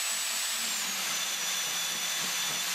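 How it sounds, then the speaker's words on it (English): The trimmer of a 6-inch manual butt fusion machine whirs steadily while facing HDPE pipe ends, a continuous loud hiss with a faint high whine and no talking. "Turn the trimmer on and bring the pipe ends against the trimmer with minimal force."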